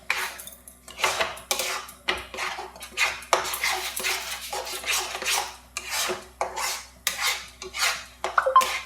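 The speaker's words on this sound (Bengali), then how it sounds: "এবার আবার নাড়ব।" Mango sweet being stirred with powdered milk in a pan, a steady run of scraping, rasping strokes against the metal with a soft clink now and then, close and fairly loud, with no voices.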